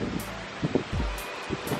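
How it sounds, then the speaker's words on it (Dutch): Strong wind gusting outdoors during a backflip training session, a steady blustery rush with a few sharper buffets against the microphone and no talk. "Het waait best hard, maar dat maakt niet uit."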